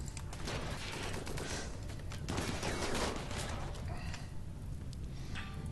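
Bursts of video game gunfire during a RimWorld desert colony battle, dense overlapping shots and clatter forming a continuous busy din, loud and steady throughout with no clear speech.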